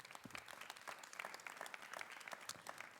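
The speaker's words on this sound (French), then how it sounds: "On applaudit Rachel Zatla." Steady, lively applause from an audience at the Clermont-Ferrand opera house, dense clapping that carries on without a break for the whole stretch.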